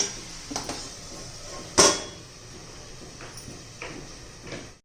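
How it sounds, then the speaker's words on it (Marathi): A lid is set onto a cooking pot of tomato chutney, giving one sharp metallic clank amid a few softer kitchen clinks and knocks in a quiet room. "आता झाकण ठेवून देऊ आणि मस्त 4-5 मिनिटं लागतील शिजून देऊया"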